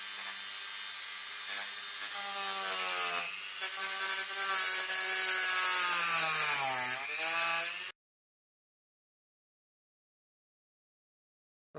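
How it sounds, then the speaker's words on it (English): A Dremel rotary tool fitted with a wood cutting attachment cuts into wood with a loud, close, high-pitched whine that shifts in pitch as it bites and eases, then stops abruptly, leaving silence. "with the Dremel. Got the wood cutting attachment on here."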